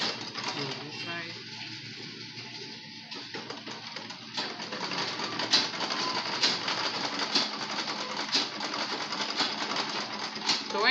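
A sewing machine stitches fabric for a handmade craft souvenir, a continuous fast mechanical whir and rattle that runs throughout, with talking over it at the start.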